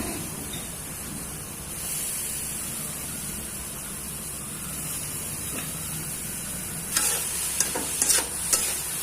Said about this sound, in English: Now we will add the cabbage and the carrots.